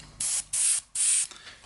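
Three bursts of weathering pigment spray from a spray bottle, each a hissing blast of about a third of a second with short pauses between, close and fairly loud with no one talking.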